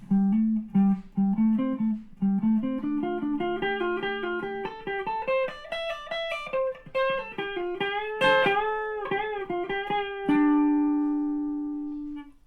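An electric guitar plays a solo slowly, with single notes climbing in a steady line and then ringing out into a sustained bend at the end, up close with no talking.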